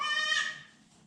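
A goat bleats once in a barn during kidding season on a snowy morning, a loud, near, wavering cry that fades out after about half a second.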